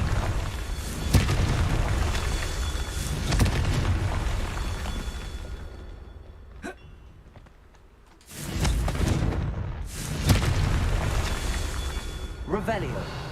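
Confringo fire spell cast in Hogwarts Legacy, with repeated booming blasts and crackling bursts over continuous game sound, a short quiet gap, then more sharp explosive hits.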